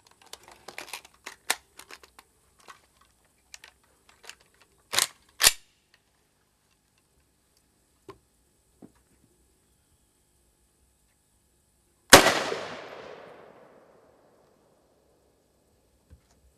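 Rifle fire with 7.62 M118 rounds striking a steel plate outdoors: a flurry of sharp cracks and metallic pings early on, two louder shots near the middle, then one heavy report that rings out and decays over about two seconds.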